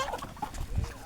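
Chickens being fed maize bran on a small poultry farm cluck softly and steadily through a dense, noisy background, with faint voices underneath.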